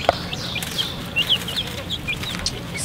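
Chickens cluck softly in a broody house shared with a duck, with short high calls scattered over steady low background noise.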